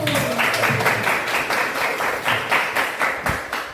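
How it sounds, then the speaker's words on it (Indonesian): A class claps hands together in a loud, steady rhythm, with the beats coming in regular pulses throughout. "Tepuk tangan dulu."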